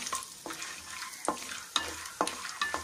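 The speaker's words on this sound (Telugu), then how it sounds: "దీని కొంచెం మనం దోరగా వేయించుకుందాం" Peanuts fry in hot oil in a pan for a spicy bitter gourd powder, a steady soft sizzle broken by regular scraping strokes of a spoon stirring them, close up.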